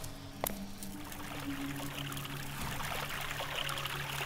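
Steady trickling, streaming water in the video game Nightmare Realm 2, a continuous close wash that runs unbroken throughout, with a single sharp click near the start.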